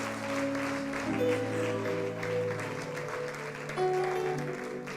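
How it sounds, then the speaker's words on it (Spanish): Applause from a church congregation during a bilingual sermon, a soft, even patter of many hands somewhat distant, with sustained organ or keyboard tones underneath. "can we give him a round of applause?"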